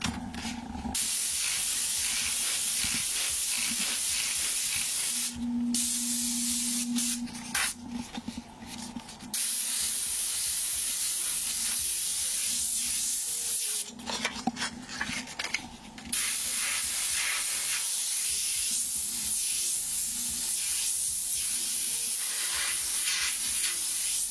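Airbrush overspray being blended into a painted background, a steady close hiss running almost without pause, broken by a few short gaps where the spray stops and restarts.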